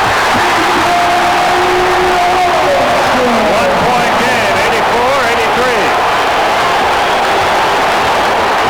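Loud basketball arena crowd cheering and roaring at a Knicks at Bulls game in 1990, a sustained swell under continuous play-by-play commentary.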